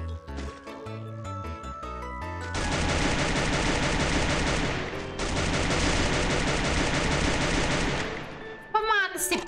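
Automatic gunfire from SCAR, MP5 and M60 guns with Galaxy skins in Free Fire, loud sustained bursts preceded by short musical interface tones and ending with a brief electronic chime.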